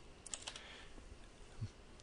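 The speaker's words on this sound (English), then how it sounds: "I apologize for my typing here." Quick bursts of keystrokes on a computer keyboard, a few sharp clicks clustered near the start and one more later, faint against a quiet room.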